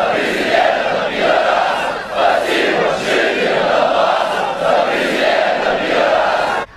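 Dynamo Kyiv football fans chant loudly in unison, a massed crowd roaring a rhythmic, repeated phrase in waves that rise and fall over several seconds before cutting off abruptly.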